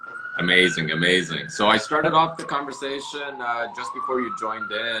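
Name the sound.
siren in the background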